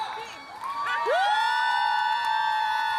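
A concert crowd at a show in Vitebsk, 2018, cheers loudly and without a break, with high sustained screams and whoops rising above the roar.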